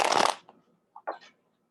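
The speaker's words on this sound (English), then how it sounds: "I love shuffling. I could shuffle forever." Tarot cards being shuffled by hand: a brief dense riffle burst followed by a few soft taps and slides of the deck, close and otherwise quiet.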